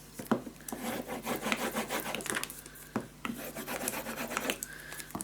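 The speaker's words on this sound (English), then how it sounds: "don't forget to burnish this down. On the inside." Paper in a scrapbook mini album frame being burnished down with a burnishing tool, close rhythmic rubbing strokes in quick succession, steady and fairly loud with no talk.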